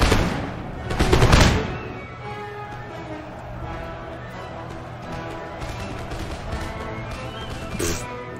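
Ranks of line infantry in Empire Total War discharge musket volleys, a loud crackling burst near the start and another near the end, with a dense battle din of distant shots and noise filling the gap between.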